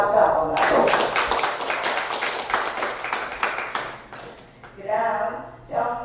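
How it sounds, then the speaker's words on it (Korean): An audience at an art exhibition ceremony in a Gyeongnam education office hall claps in a brisk burst for a few seconds, which then thins out and gives way to someone speaking. "박수 한 번만 더 드리겠습니다"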